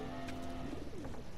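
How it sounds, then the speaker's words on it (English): Pigeons coo in The Last of Us video game, a soft low warbling call with a few brief chirps over a steady ambient background, quiet and somewhat distant. "Pigeons!"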